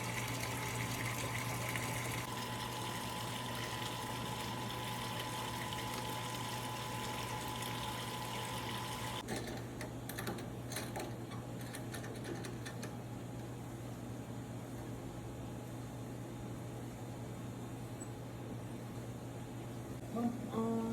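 An electric pump pushes water through home beer brewing equipment into a fermenter, giving a steady hum and a continuous rushing, gushing flow that shifts in tone partway through, with faint voices in the background.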